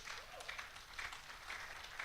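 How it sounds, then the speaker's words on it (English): A conference audience applauds, a steady wash of many hands clapping at a distance, faint and continuous with no speech over it. "Let's give these two ladies a round of applause."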